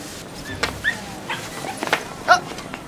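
A puppy whimpers and yips in a few short bursts amid quiet room noise, close and fairly soft, with no talk over it.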